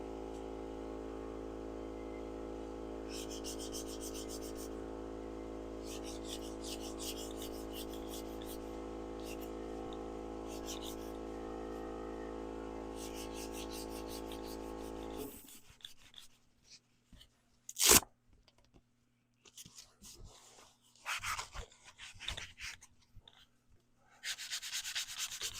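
Hand sanding of a turned wood piece on a lathe, a steady broadband rubbing hiss running continuously for about fifteen seconds over a low hum, then stopping, followed by quieter scattered handling sounds and a sharp knock.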